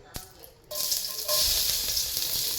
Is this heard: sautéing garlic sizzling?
yes